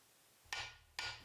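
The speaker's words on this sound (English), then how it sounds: "Tap it firmly into place with a hammer. The tone will change as the race is seated." Two sharp metallic hammer strikes on a driver seat a front wheel bearing race on a 1986 Pontiac Fiero GT, each ringing briefly before fading, close and alone in a quiet shop.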